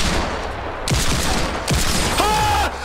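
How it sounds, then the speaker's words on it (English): Hand cannon shots from Fortnite ring out as three loud, sharp blasts spaced under a second apart, each with a short tail, over constant game background noise. "Hand cannon is one of my favorite guns in Fortnite."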